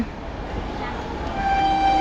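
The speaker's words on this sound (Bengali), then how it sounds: "সামনে থেকে আরও একটা ট্রেন আসছে" A train approaches Plassey railway station with a steady rolling rumble, and a horn tone sounds near the end over the station din.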